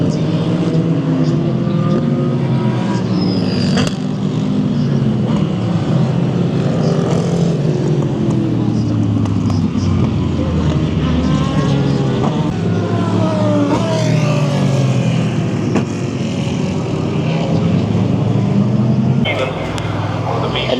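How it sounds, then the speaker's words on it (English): Race cars circling the Daytona track under full-course safety at the Rolex 24, a steady loud engine drone with rising and falling passes, and a person talking over it. "All the race cars just kind of cruising along."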